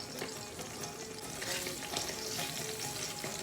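Six halved garlic cloves sizzle in about three tablespoons of olive oil for a Moroccan fish dish, a steady close crackle and hiss running the whole time with no talk.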